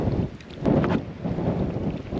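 Strong wind buffeting a microphone beside a creek in Patagonia, a loud low rumbling roar in uneven gusts, with no talk.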